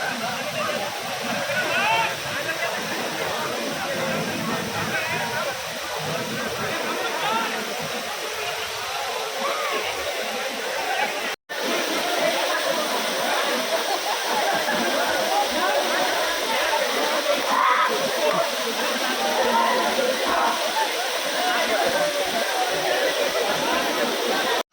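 The Paniyari waterfall near Ambaji pours down from above into a river in a steady, loud, unbroken rush of falling water, close by, with people talking faintly beneath it.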